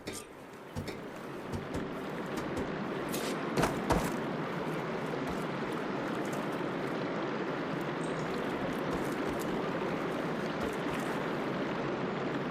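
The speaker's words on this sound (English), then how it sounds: "I can hear water in the room again" Water running and splashing inside a room in the Horizon game quest The Wound in the Sand, a steady continuous rush with a few brief louder knocks near the start.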